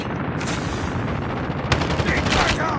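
Desert Eagle pistol fire in Call of Duty Mobile, a rapid burst of sharp game gunshots running continuously and close, with dense overlapping impacts and a louder surge of shots toward the end.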